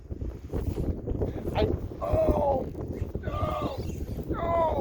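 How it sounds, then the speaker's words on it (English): Wind of 15 to 20 blows across Oneida Lake in upstate New York on a cold late-fall fishing outing, a constant buffeting rush against the microphone, with faint voice-like sounds over it. "It is a balmy 40 degrees with a mild west wind, 15 to 20."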